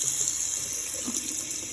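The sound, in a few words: Hoover PowerDash carpet cleaner running with water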